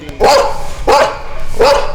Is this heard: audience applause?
no